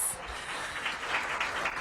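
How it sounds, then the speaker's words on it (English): Audience applauding Microsoft team members at a Washington, D.C. event, a steady, dense wash of clapping from a crowd filling the whole moment, moderately loud and continuous without a voice over it. "give yourselves a round of applause"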